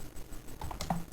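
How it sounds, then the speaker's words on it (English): Quick, light keystrokes on a computer keyboard as a ping command is typed, a short burst of close, crisp clicks in an otherwise quiet room. "So I type ping"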